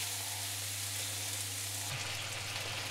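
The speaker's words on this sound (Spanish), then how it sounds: "Añadimos el pimiento a tiras y el cortado. Y vamos a ir sofriendo todo bien." Strips of pepper and garlic sauté in oil in a wide pan, giving a steady, dense sizzle close by with a brief stirring knock partway through.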